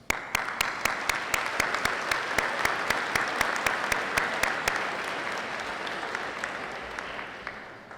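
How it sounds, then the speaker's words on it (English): A school convocation audience fills the room with sustained applause, a dense wash of many hands close by, with one loud clapper keeping a steady beat that fades gradually toward the end. "You owe, all of you owe yourselves a round of applause"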